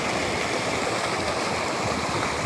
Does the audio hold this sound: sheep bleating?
no